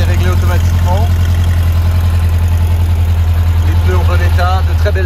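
A 1975 Volkswagen Beetle cabriolet engine idles with a steady low, even rumble throughout, close and continuous, with a voice speaking over it at times.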